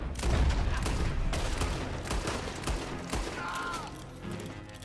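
Gunfire in the video game Red Dead Redemption 2, a loud, dense burst of shots strongest at the start and fading into a reverberant rumble, with a brief whistle-like tone near the end.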